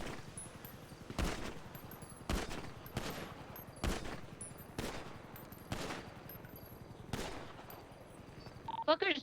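Single gunshots fired in GTA V roleplay, about seven sharp, evenly spaced cracks over a quiet background of faint ambient noise.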